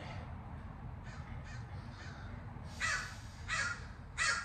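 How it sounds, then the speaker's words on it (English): Several crows caw in short harsh bursts, a few softer ones followed by three louder calls close by, over a low rumbling background. "These crows are having a party out here today."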